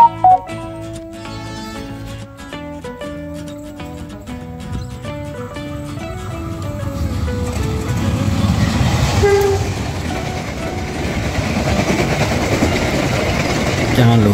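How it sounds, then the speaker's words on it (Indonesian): The Airlangga passenger train on an Indonesian railway, heard from trackside, sounds its horn in loud sustained tones, then rumbles past with building rail and wheel noise that continues steadily to the end. "Nah, kalau ini kereta api Airlangga akan berjalan langsung."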